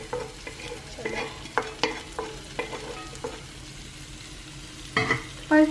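Chopped onion goes into a pan for Manipuri-style chicken curry, giving a quiet sizzle under a series of sharp spatula scrapes and stirring knocks, then a louder clatter at the end; no one speaks.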